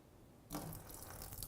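Starchy water from grated potatoes pours off in a steady splashing stream, starting abruptly after a brief silence and continuing close by.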